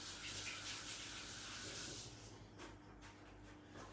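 Hands washed under a running kitchen tap, a steady close hiss of flowing water that eases off and turns softer and patchier partway through, with no talking.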